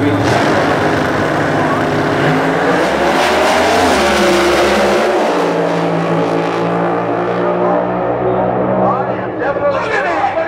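Drag race cars launch and roar down the strip, loud engine noise with rising revs and tire squeal dominating throughout, with a race announcer talking over the action.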